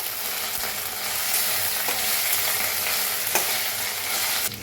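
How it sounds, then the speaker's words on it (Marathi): Onion frying in a pan for a masala egg dish, a loud, continuous close sizzle with occasional stirring scrapes and no talking. "आपला कांदा भी छान असा भाजायला लागलाय"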